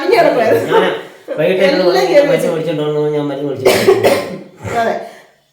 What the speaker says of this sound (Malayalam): ചുമയങ്ങ് മാറിയിട്ടില്ല